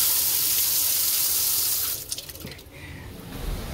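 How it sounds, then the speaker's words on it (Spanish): High-pressure mains tap water gushes hard from a faucet, a loud, steady roar that cuts off after about two seconds, leaving a quieter trickle and splashing. "Miren esto, este es el agua de la calle,"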